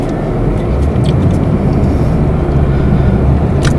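A 1987 Audi 5000 with only 58,000 miles driving on a hot day with the air conditioning on, a loud, steady road and engine rumble heard from inside the car, with no talk.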